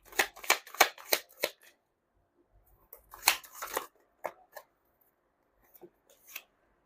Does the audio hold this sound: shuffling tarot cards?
yes